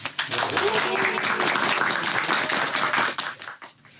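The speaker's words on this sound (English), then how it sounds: "Let's give a huge round of applause for Mr. Deddy Sulaiman." A crowd applauds with dense, sustained clapping for several seconds, then it tapers off toward the end.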